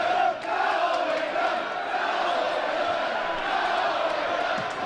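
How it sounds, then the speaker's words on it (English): A football crowd at a Wycombe versus Macclesfield Town match on 2 January 2006 keeps up a constant roar with chanting voices blended into a broad wash of noise, steady and moderately loud. "listen to the crowd"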